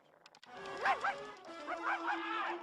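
A dog gives a few yappy, whining barks up close, the sharp calls rising and falling over a brief stretch.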